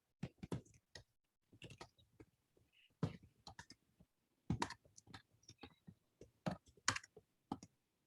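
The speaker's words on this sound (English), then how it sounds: "And I'm typing that up." Typing on a computer keyboard during a board meeting: soft, quiet clicks come in irregular bursts with short pauses, close and faint with no talk.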